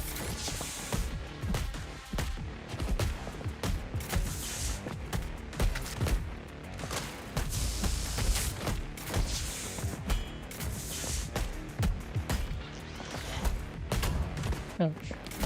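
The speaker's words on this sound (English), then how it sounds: "Oh, they shoot guns too." Dense bursts of rapid gunfire and crashing impacts from the video game Replaced, layered with game music and effects, continuing loud and busy throughout with no speech.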